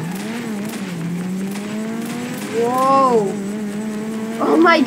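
A car engine in the Garry's Mod video game hums steadily and rises in pitch as the vehicle accelerates, with a brief revving surge near the end and faint tire noise.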